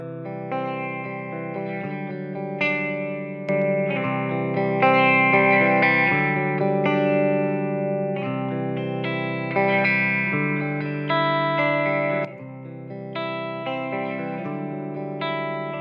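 Electric guitar chords through a Wampler Tumnus overdrive pedal ring out with a slightly gritty, saturated tone, strummed steadily and loudly with sustained notes throughout.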